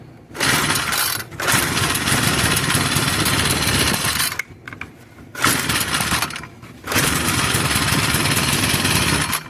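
Troy-Bilt 30cc edger under repair, throttle cable frozen: the small two-stroke engine revs loudly in long bursts, dropping out briefly twice with a clank of handling between, close and without speech.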